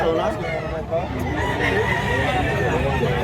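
Roosters at a Cebuano poultry seller's stall crow and cluck against a constant crowded din, with someone talking over them the whole time.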